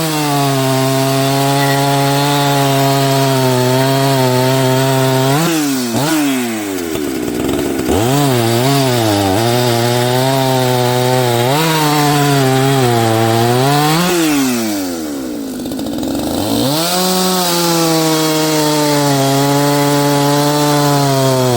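A tuned Husqvarna 61 chainsaw cutting firewood roars loud and near, its engine pitch rising and falling as it bogs into cuts and revs back up, with two brief dips in the middle.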